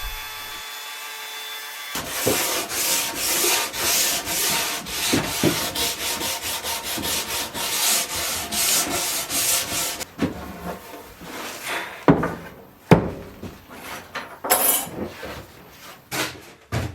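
Tool cutting a recess into a wooden gate stile: a steady, loud rasping cut for about eight seconds, then shorter, choppier bursts with pauses and sharp knocks near the end.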